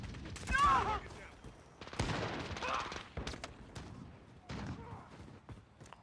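A pump-action shotgun fires in the video game Modern Warfare: several loud, booming blasts spaced a second or so apart, each followed by a mechanical racking clack, with faint game background noise between shots.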